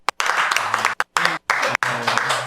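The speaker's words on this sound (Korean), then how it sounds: "박수 한번 드릴까요?" Audience applause follows an answer on a Korean pastors' talk show about Protestant monastic life, dense clapping broken by abrupt cuts, with voices mixed in.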